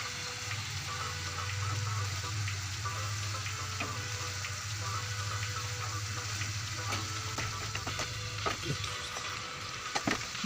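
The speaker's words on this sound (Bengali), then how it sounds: "এবার আমি ঢেঁড়স দিয়ে আবার একটু কষিয়ে নেব পুরোটা আবার নেড়ে নিতে হবে ভালো করে" Okra and shrimp masala frying in a pan, a continuous close sizzle and crackle with occasional scraping stirs building toward the end.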